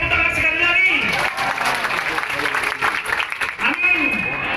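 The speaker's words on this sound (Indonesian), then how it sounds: "Bisa kita tepuk tangan sekali lagi." An audience at a gathering claps in a sustained, dense round of applause, with a crowd murmur and a voice talking over the clapping throughout.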